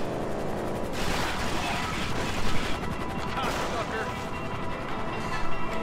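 Heavy gunfire and blasts from tanks at a military base in GTA Online rattle in dense bursts, loud and continuous with a few sharper booms, while players' voices can be heard underneath.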